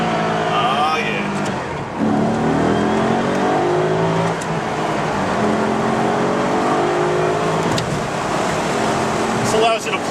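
A 2004 Maserati Cambiocorsa Spyder accelerates in sport mode, its engine a loud, steady close-up roar rising in pitch through the clip, with a brief dip near the two-second mark and a voice partly mixed in.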